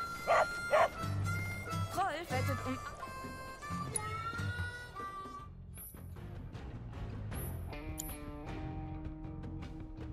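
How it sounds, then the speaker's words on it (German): A dog in the video game Final Fantasy 7 Rebirth, during an in-game card match, gives a couple of sharp barks near the start. Game music, chimes and ticking interface sounds follow. "Rolf ist ein Hund"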